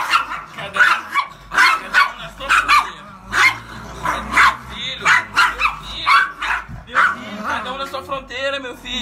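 Several dogs bark and yip repeatedly over about nine seconds, loud and close, with some whimpering mixed in, while a person talks over them.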